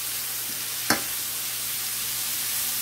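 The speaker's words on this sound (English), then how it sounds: "the onions are nicely sauteed" Onions sauté slowly over low heat in a pan for Gambian-Senegalese chicken yassa, a soft, even, continuous sizzle with a single brief clack near the start.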